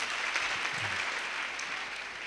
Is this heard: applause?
yes